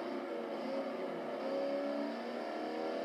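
A race car engine drones and revs steadily in the Forza Horizon 4 racing game, a continuous moderate whirring hum with slight rises in pitch, heard alone.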